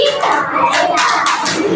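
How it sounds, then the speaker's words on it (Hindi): Hands clapping during a Hindi group activity session, with bursts of claps in an uneven rhythm mixed with children's voices, loud and close. "आओ हम सब मिलकर बजाएं ताली"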